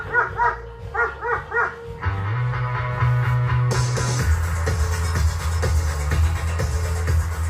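A police handler's dog barks in a rapid, loud run of close barks, then gives way to a steady droning hum with scattered knocks and clatter.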